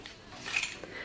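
A spoon stirs water mixed with a teaspoon of baking soda in a container, preparing a cleaning solution for leather and suede shoes; brief close clinks and swishes of metal against the container, with no talk.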